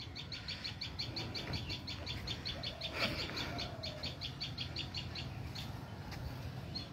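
Birds call outdoors beside a river, a steady train of high repeated chirps with a few fowl-like clucks mixed in, set against continuous low ambient noise.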